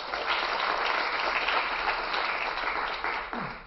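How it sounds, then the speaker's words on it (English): Audience applause at a keynote honoring young African leaders: dense, steady clapping from a large crowd that holds at full strength throughout, then thins slightly near the end. "Please, a round of applause for the Yalis."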